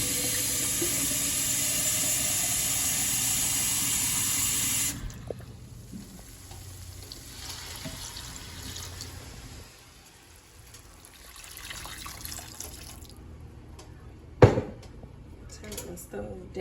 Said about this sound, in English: that was hot water from the faucet that I just added in here